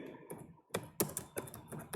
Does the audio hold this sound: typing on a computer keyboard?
yes